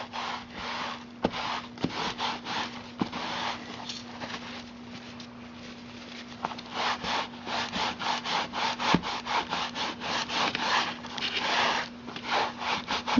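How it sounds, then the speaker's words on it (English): A wet paper towel rubs paint off a sprayed canvas in quick, repeated back-and-forth scrubbing strokes, close and rhythmic with a brief pause, over a faint steady hum. "I'm going to spray it and get it pretty wet. And I'm just going to start rubbing my canvas."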